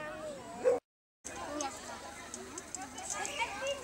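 A small dog of a German-French breed gives a few thin yips and whimpers at close range, mixed in with people talking nearby at an indoor school event.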